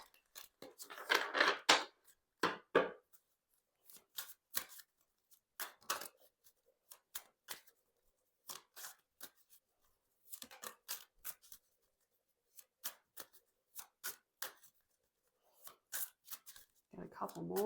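A deck of tarot-style cards is shuffled by hand in quick bursts of riffling and flicking, loudest near the start, then broken into short separated snaps and taps between pauses.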